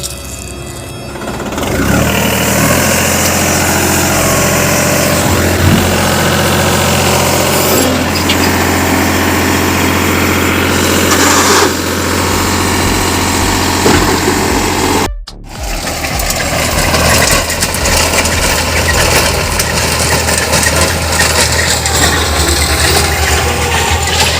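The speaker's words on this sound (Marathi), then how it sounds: "तिकडे आता रोटावेटर चालू आहे" A tractor engine drones steadily and loudly throughout, with a rotavator churning a farm field beneath it; a brief dropout interrupts the noise midway before it resumes.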